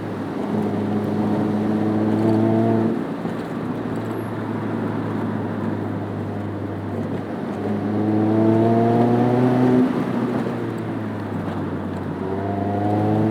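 A Mazda MX-5 Miata running on E85, making 170 horsepower, climbs through the revs on a Malibu canyon road, its engine note rising twice in long, loud pulls separated by a brief drop.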